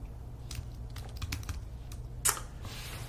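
Keys clatter on a computer keyboard in short irregular bursts, a quiet close-up tapping with one sharper, louder keystroke near the end and no voices.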